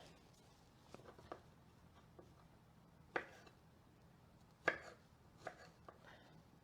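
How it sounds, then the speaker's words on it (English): Garlic is sliced very thin on a cutting board for a whole grilled snapper, making quiet, irregular knife taps: a few light strikes and several sharper chops spaced over the stretch. "I do very thin pieces of garlic because I'm gonna put in the slit of the fish."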